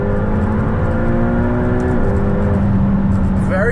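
A 2020 McLaren GT pulling away hard off the line in launch mode, its engine note rising steadily with a gear change partway, loud cabin sound with a voice speaking over it.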